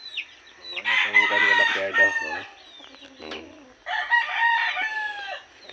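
Broodcock roosters crow in a backyard, two long full crows close by with a shorter cluck between them, while someone speaks briefly over the birds.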